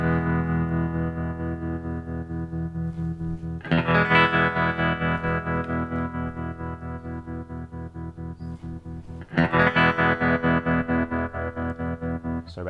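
Sustained electric guitar chords pass through a Boss TR-2 tremolo pedal, the volume pulsing rapidly and steadily throughout, with two fresh strums restarting the ringing chord partway through; loud and alone without talk.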